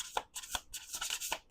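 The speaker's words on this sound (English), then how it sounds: "One more shuffle." Deck of tarot cards being shuffled by hand, a rapid series of crisp riffling, flicking bursts, close and fairly quiet, with no talk.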